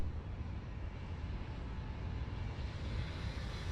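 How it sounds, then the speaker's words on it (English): A Boeing 727-200 jet on short final approach in MSFS2024 flight simulation, a steady low engine rumble and airflow roar holding fairly even throughout. "Here's the jet on short final."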